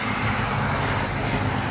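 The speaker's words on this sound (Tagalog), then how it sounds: "At ang ingay naman sa likod ng sasakyan." Steady roadway traffic rumbles from vehicles behind a walker at sunrise, a continuous broadband wash of passing cars with no distinct individual pass-bys.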